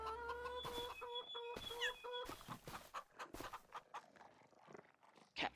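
Chickens clucking in the Farming Simulator 25 video game, a series of short, close clucks and squawks with varied pitch, alone without talk.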